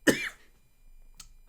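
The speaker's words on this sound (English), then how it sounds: "Sorry about that cough." A single short cough near the mic, followed a second later by a faint, brief second burst, then quiet.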